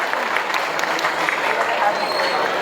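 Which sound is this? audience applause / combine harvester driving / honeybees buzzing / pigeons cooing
audience applause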